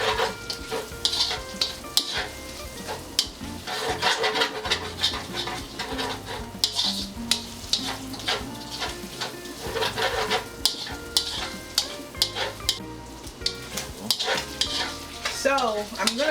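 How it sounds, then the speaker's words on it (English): Pepper steak stir-fry with sesame oil sizzles in a pan while being stirred, a steady frying hiss with frequent scrapes and clinks of the utensil against the pan throughout. "And keep stirring."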